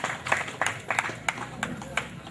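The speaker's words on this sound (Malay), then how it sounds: "tepuk tangan yang meriah untuk peserta nomor 3" Steady rhythmic clapping, a handful of sharp claps about three per second, fairly close, with a faint murmur underneath.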